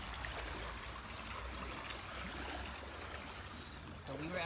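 Menantico Creek, a small tributary stream, flows with a steady, soft broadband rush and trickle that stays even throughout, heard outdoors at low level without speech.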